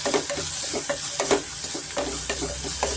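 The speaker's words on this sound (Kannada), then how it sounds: "ಈರುಳ್ಳಿ ನಾನು ತುಂಬ ಏನು ಫ್ರೈ ಮಾಡ್ಕೊಳಲ್ಲ" Onions fry in oil in a pan, a steady soft sizzle broken by quick scraping stirs, all fairly quiet and close, with no voices.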